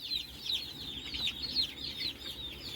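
Americana hens cluck in short, repeated calls, fairly faint and steady over a soft background murmur with no talking.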